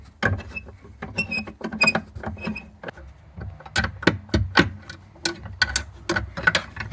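A socket wrench loosens the 12V battery terminal nut on a Lexus CT200h, making rapid ratcheting ticks in quick bursts, close and crisp, with short pauses between runs of clicks.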